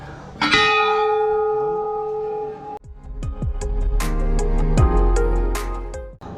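A metal temple bell rings out with a long ringing tone, then is struck again several times in a loud, clanging cluster with a lingering hum.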